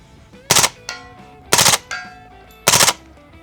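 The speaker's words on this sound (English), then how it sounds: "Ah, the same sound of machine gun fire." Three separate bursts of machine gun fire at an outdoor shooting range, each a rapid cluster of sharp, loud reports about a second apart, ringing out with short echoes between bursts.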